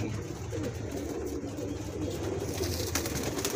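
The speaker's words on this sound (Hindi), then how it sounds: "मेरे बहुत सारे कबूतर हैं ये" Several pigeons kept in a rooftop loft coo steadily, a low continuous murmur of overlapping calls with no voices.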